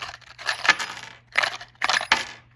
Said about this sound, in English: Okay, a bunch of keys.